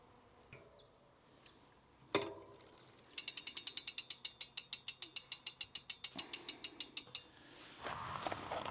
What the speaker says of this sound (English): I need to adjust this B screw to get a 5 to 6 millimeter gap